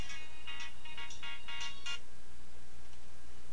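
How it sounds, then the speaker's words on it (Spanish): A phone ringtone plays a short series of bright electronic beeps in rapid bursts over about two seconds, moderately loud, and then falls silent under a low background hum. "Sorry, banda teléfono."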